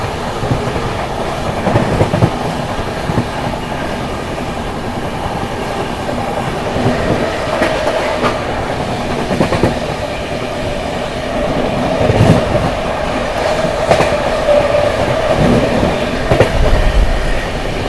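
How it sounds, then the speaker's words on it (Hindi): The 22438 Anand Vihar Terminal–Prayagraj Humsafar Express runs at high speed, heard from inside a coach as a loud, continuous rumble with repeated clickety-clack of wheels over rail joints and occasional sharper rattles. "ट्रेन अपनी मस्त रफ्तार में भाग रही है।"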